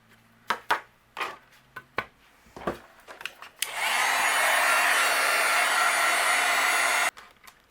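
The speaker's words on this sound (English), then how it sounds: "I'm going to use my heat gun and we'll melt this." Heat gun melting embossing powder on a clear-stamped Christmas card image, a loud steady blowing roar switching on after several sharp taps and clicks, running alone for about three and a half seconds before cutting off.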